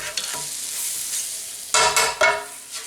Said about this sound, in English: So we're making a roux.